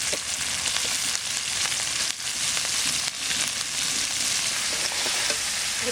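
Eggs go into hot, oil-released masala for an egg curry, and the pan answers with a loud, steady sizzle and crackle that holds for several seconds with brief dips, no voices over it.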